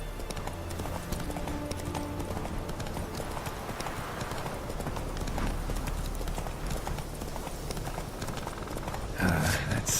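Continuous rhythmic clip-clop of a horse named Roach galloping at speed in the video game The Witcher 3, hoofbeats steady and fairly close over a low ambient rumble, with a brief shift in the final second.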